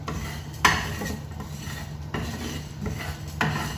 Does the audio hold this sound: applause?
no